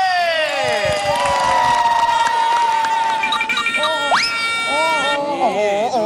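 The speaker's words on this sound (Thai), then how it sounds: "ขอเสียงปรบมือกับน้องเต้" Audience cheering and whooping with scattered applause for a boy about to perform a Muay Thai wai khru, a lively crowd roar under a host's amplified voice, steady and fairly loud.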